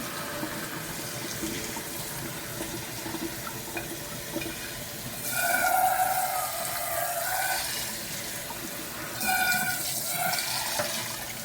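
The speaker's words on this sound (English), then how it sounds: "I'm going to turn on the cold water and rinse it." Cold water runs from a tap into a strainer in a sink, a steady close splashing rush that swells louder partway through, with no talking.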